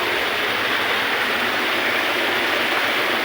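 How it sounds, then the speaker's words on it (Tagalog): Waterfall roaring steadily up close, a dense, even wash of falling water that fills the whole moment with no break and no voices. "Ang kami sulod sa talon. Ganda."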